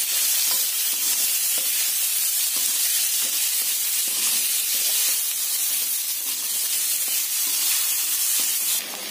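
Garlic, chopped onion and potato fry loudly in a wok that was used for frying fish, producing a dense, constant sizzling hiss with fine crackling throughout.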